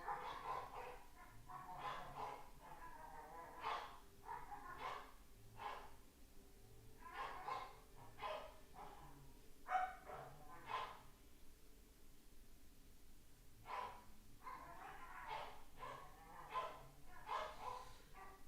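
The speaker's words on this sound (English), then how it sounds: "I hear dogs barking their heads off" Dogs bark repeatedly in Zelda: Tears of the Kingdom, with sharp, fairly distant yips and woofs coming in irregular bursts over a quiet game background.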